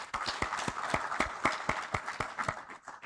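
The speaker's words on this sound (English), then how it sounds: "mighty hand clap" An audience at an agricultural extension annual general meeting in Uganda clapping for the farmer-facing extension officers, a short burst of distinct, fairly close hand claps in an uneven rhythm.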